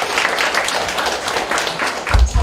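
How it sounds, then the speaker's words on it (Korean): Dense audience applause at a lecture by a Korean National Assembly member in Busan on the low birth rate, steady crackling clapping throughout with a louder low thump near the end. "박수 부탁드립니다"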